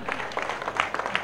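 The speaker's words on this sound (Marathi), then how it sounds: "मित्रांनो, सर्वांनी एकदा जोरदार टाळ्या वाजवा." Brief burst of crowd clapping at a rubber-ball cricket tournament semi-final after a fine catch, scattered and uneven, with sharper claps standing out.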